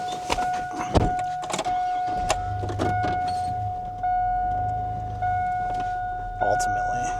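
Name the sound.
truck being moved closer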